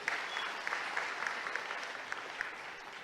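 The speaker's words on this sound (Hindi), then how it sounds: "जरा ताली तो बजाओ" An audience at a live public event with the Madhya Pradesh chief minister claps steadily for the full stretch, a dense sustained applause with no voices over it.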